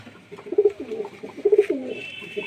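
A domestic pigeon of a fancy breed coos in soft, low repeated phrases close by, two fuller bursts with gentle throaty murmurs between, in a quiet setting.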